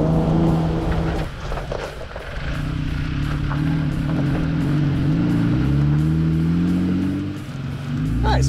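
A Jeep Wrangler in four-low crawling up a dirt hill, its engine a steady, loud, close low drone that rises and shifts in pitch as it climbs, with brief rattles and knocks over the rumble.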